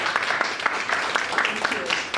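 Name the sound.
audience applause for the moderator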